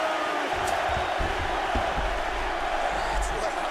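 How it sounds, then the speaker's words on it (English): Arena crowd in UFC 4 video game roaring and cheering steadily after a round ends, a continuous wash of noise with commentators talking over it. "So the crowd voicing its appreciation after that round."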